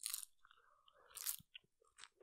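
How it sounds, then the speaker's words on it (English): Crunching bites of a cheesy nacho chip close up, a few sharp crisp crunches separated by quieter chewing. "Listen to a beautiful fucking sound of those nacho"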